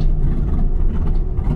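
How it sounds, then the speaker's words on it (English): A nitrous-equipped donk car's engine, close and loud, gives a deep, steady low rumble with a rough, throaty texture for a short burst. "I know this donk's got a lot of nitrous"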